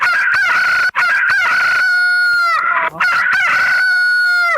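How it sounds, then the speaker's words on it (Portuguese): A rooster crows loudly and close, a series of strained, harmonic calls with short breaks between them, and a single brief spoken word cuts in partway through. "Vamos ver o galo,"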